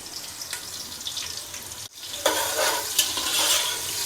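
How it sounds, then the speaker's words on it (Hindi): One large sliced onion hitting hot oil with cumin, a steady hiss that breaks off briefly and then swells louder and brighter with scraping stir strokes, close and without voices. "अब मैं इसमें डालूँगी 1 बड़े साइज़ की स्लाइस की हुई प्याज"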